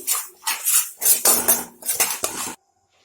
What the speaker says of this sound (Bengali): সুজিটা ভালো করে ভেজে নিচ্ছি